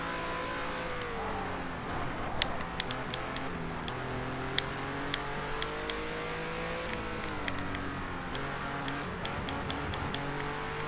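Race cars whine through a hairpin in a racing video game, several engines droning with falling then rising pitch as they slow and accelerate, with small ticks and clicks over a steady engine hum.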